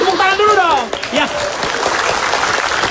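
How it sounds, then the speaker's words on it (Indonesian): Studio audience of an Indonesian comedy talk show applauds in a steady, dense wash, with a voice speaking briefly at the start over the clapping. "Tepuk tangan dulu dong"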